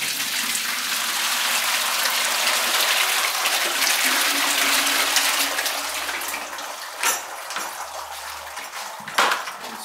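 Liquid pottery glaze pours steadily through a sieve in a broad, continuous wet rush, fading out toward the end with a few sharp clinks of the sieve and container.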